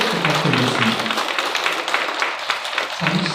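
Audience applause for a speaker at a lecture on international affairs and national reunification, a steady dense patter of many hands clapping across the whole stretch, fairly loud and continuous.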